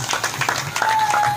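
Scattered clapping from a gathered audience, light and uneven, with a faint steady tone running beneath toward the end.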